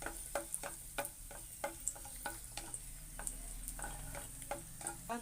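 Raisins fry in ghee for kesari while a spoon stirs them, giving a soft, quiet sizzle broken by a steady run of sharp scraping clicks against the pan.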